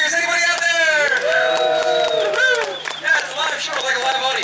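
A live audience at an Everglades alligator show claps and cheers with whoops and shouts, a continuous loud crowd noise mixed with voices throughout.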